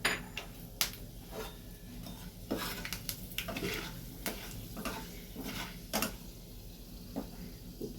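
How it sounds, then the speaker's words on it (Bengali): Whole cinnamon, cardamom, cloves and peppercorns fry in oil in a pan, a soft constant sizzle broken by sharp clinks of a utensil against the metal and a few light pops; no one speaks. "এবার এর মধ্যে দেখো খানিকটা গোটা মশলা দিচ্ছি, দালচিনি, এলাচ, লবঙ্গ আর একটু গোলমরিচ, এগুলো দিয়ে দিলাম"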